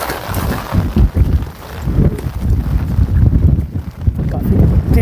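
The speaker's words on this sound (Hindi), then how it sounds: "काफ़ी तेज हवा है" Strong wind at a hilltop fort, roaring and buffeting the microphone in loud, uneven gusts with rumbling low noise, and no clear speech over it.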